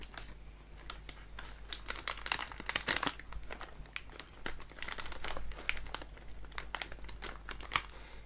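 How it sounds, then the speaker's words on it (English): An opened bag of sweet and salty mixed popcorn crinkles and rustles close up in quiet, irregular bursts, soft crackles alone without any talk. "I got the sweet and salty mixed bag."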